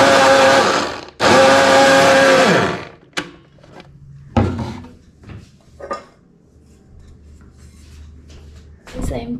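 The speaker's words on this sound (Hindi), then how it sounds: "this one actually I am going to blend it" A kitchen blender grinds small grains in two loud, sustained bursts separated by a brief pause, followed by sparse clatter of dishes and utensils being handled nearby.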